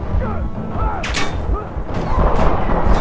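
Gunfire in the video game Call of Juarez The Cartel, a dense stretch of loud game combat with several sharp shot bursts over a rumbling background, while a voice talks intermittently.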